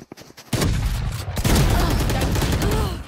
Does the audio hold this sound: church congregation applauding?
no